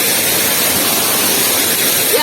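Waterfall on a trek, a loud, constant, dense roar of rushing water filling the whole clip up close, steady and unbroken.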